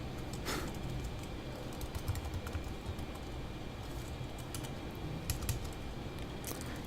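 Computer keyboard typing clatters steadily throughout at a moderate, close level, with a few louder keystroke bursts and no voices.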